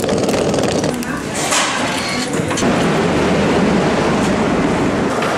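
Metro train in Barcelona, a steady loud rumble and roar running throughout with station-like broadband noise, fairly close and continuous.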